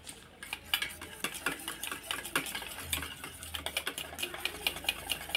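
A utensil whisks yogurt in a bowl for dahi vada, giving quick, light, rhythmic clicks and scrapes that stay close and fairly quiet throughout, with no talking.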